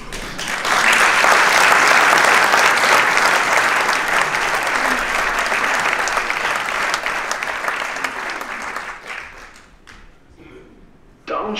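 A theatre audience at Neues Theater Höchst breaks into loud, dense applause to welcome a vertical-rope performer, the clapping swelling at once, holding strong for several seconds, then gradually thinning and fading out.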